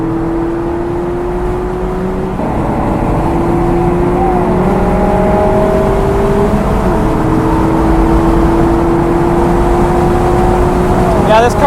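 A 2017 Mazda MX-5 RF being driven on a race track: the engine drones loud and close, with its pitch climbing steadily and dropping at two gear changes as the car is pushed through corners.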